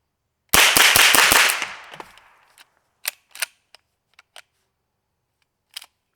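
An MP5SD suppressed gun fires a quick string of about six sharp shots that decay into a fading echo, followed by scattered metallic clicks and clacks of the action being handled.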